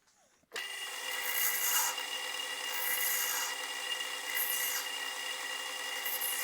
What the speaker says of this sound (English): I'm going to machine the end back until I've got a clean surface